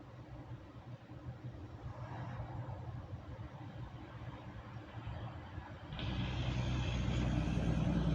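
A white GMC truck approaches with a low engine rumble that builds steadily, rising sharply near the end as it draws close. No one speaks.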